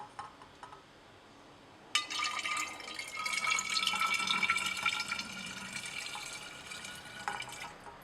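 Water and dichloromethane filtrate, two liquid layers, poured into a glass separating funnel, a steady liquid pour with light clinks starting after a quiet moment and running to the end, close and alone.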